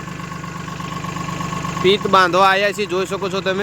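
A mini tractor engine runs steadily in a castor field, its low hum continuous beneath a man's speech, then growing louder and rougher toward the end.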